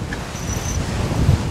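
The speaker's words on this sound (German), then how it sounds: "Boah, ist das windig." Strong wind buffets the microphone on a path near a lighthouse in Sweden, a loud, continuous low rumble with gusting roar and no speech.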